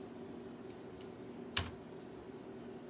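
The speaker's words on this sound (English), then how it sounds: "let me type my password real quick" A few scattered keystrokes on a computer keyboard while typing a password: light, sparse clicks over a steady low room hum, close but quiet.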